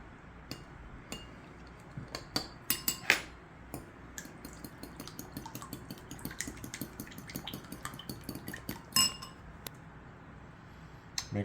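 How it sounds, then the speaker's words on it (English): A spoon mixing cherry liquid and thick soy sauce in a bowl, with irregular clinks and taps against the bowl and soft liquid stirring, fairly close and moderately quiet. "we're going to give this a good old mix"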